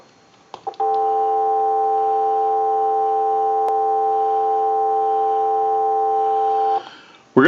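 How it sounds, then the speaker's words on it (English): A steady, even telephone dial tone hums without a break for about six seconds on a Western Electric single-slot payphone under repair and conversion, with a few faint clicks and handling noises at the start and end. "we'll give you some dial tone"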